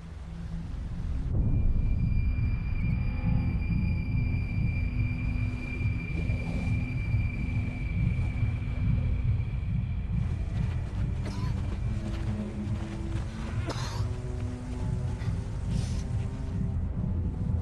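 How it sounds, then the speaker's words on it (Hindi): A large river's flowing water roars loudly and steadily, a constant, dense rush that fills the whole stretch. "अगर हम इतनी बुलंदी से इस पानी की आवाज को सुन रहे हैं तो इसका मतलब कि ये दरिया बहुत बड़ा है"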